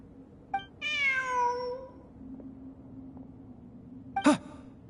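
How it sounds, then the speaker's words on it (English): A cat gives one drawn-out, falling meow, followed a few seconds later by a short, sharp second cry, both fairly close over a quiet background hum. "Look! A cat!"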